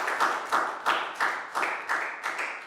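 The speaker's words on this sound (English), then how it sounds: "so a big round of applause." Children clap together after a primary maths lesson, a steady burst of applause with rhythmic pulses, close and moderately loud, with no voices.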